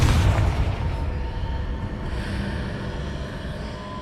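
A Confringo blasting spell explodes in Hogwarts Legacy, a loud booming burst at the start that decays into a long rumbling tail fading over several seconds.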